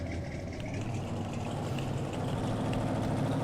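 Buick Riviera engine idling steadily after a full service, a loud, continuous low rumble that holds even throughout with no voices over it.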